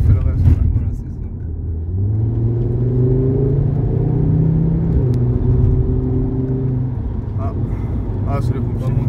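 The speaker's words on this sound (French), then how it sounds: "Tu enlèves juste la pédale d'accélérateur et... Le frein moteur fait le reste." An Audi RS3 Stage 1 slows on engine braking after lifting off the accelerator, a loud, steady, low cabin drone with slowly falling engine tones, while people talk over it throughout.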